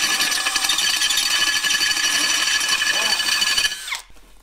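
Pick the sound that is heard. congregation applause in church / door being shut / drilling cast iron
drilling cast iron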